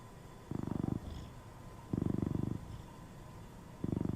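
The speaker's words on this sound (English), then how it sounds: "He's still purring a little bit." A close, low purr rumbling in slow rhythmic bursts, three long breaths with quiet gaps between them.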